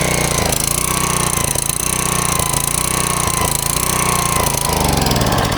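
A pressure washer's small gasoline engine runs loud and close with the air cleaner off, its steady roar surging and dipping as it hunts for speed, with no voices.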